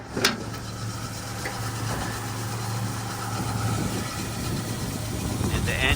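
A 1956 Pontiac Star Chief engine idles with a steady, low, even rumble throughout, building slightly toward the end, with a brief knock near the start.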